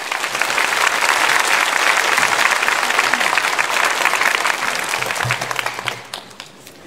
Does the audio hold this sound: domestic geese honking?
no